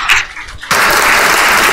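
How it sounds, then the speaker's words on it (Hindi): At a Jain quiz show during Dashlakshan festival, a voice gives way after a brief pause to a sudden loud wave of audience clapping, dense and sustained to the end. "दर्शकों जोरदार तालियां बजती रहे"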